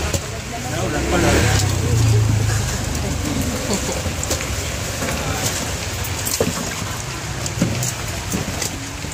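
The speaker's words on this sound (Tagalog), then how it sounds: "Naulan pala." Rain falls steadily outdoors, a constant hiss with scattered drop sounds, while people talk nearby and a brief louder rumble swells early on.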